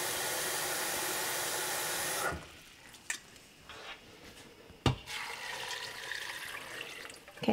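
Water pours loudly and steadily for about two seconds while a class prepares mushrooms, then stops, leaving quiet room noise with a few clinks and taps.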